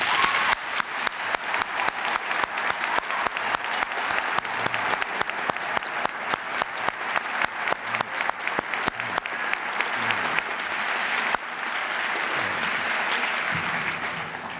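High school students at Suitland High School in Maryland applaud, producing loud, sustained applause from a large crowd with dense steady clapping that swells into a thick roar near the end.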